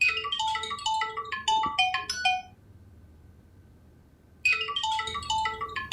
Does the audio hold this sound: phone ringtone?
yes